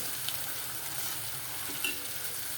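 Chopped tomato frying in hot oil for urad dal, a steady, even sizzle with soft crackles throughout, faint and unbroken, with no voices.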